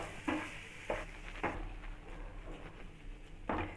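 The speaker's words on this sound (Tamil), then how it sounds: "சேர்த்துட்டு நல்லா கிளறி விட்டுருங்க." Boiled potatoes being stirred into a potato bonda masala in a pan, giving a few soft scraping and clattering strokes spaced over a few seconds, fairly quiet with no talking.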